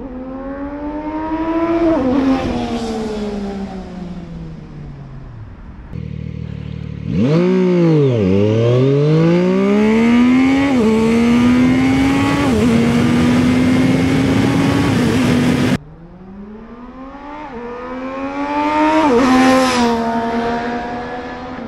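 A Zontes 703RR motorcycle accelerates hard from 0 to 150 km/h, its loud engine revving up in rising sweeps with gear changes between surges, heard close and alone.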